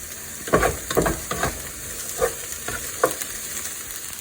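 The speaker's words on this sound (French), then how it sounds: "Maintenant, notre oignon commence à être doré." Chopped onion frying and turning golden in a pan over gentle heat for a Québec pâté chinois, a soft steady sizzle punctuated by several scraping stirs of the spoon, close and without speech.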